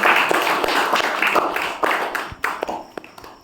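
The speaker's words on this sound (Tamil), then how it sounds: "கைத்தட்டி நன்றியை தெரிவித்துள்ளோம்" A church congregation at a Lourdes feast-day Mass in Vijayanarayanam claps in thanks, with scattered, uneven claps that taper off into a few sharper individual slaps.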